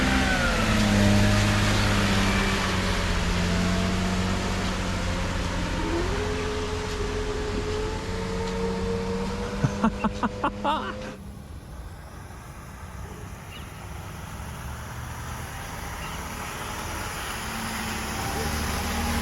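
A car engine, on a Mazda RX-8 or BMW X5 being prepped, revs hard trying to climb a wet driveway, the pitch rising and falling under strain before dropping to a duller rumble, with people talking nearby.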